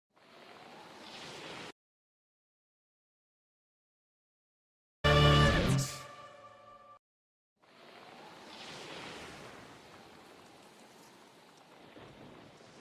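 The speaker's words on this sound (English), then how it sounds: "Oh no, those are ocean sound effects." Ocean waves played as a sound effect give a broad, hissing wash of surf that cuts out to silence, followed by a sharp loud burst and then the rolling noise again, steady and fairly loud.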